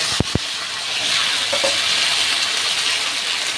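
Spice paste dropped into hot oil in a wok over a tempering of dried red chillies and bay leaves for khichuri: two sharp taps, then a loud, continuous frying sizzle and hiss.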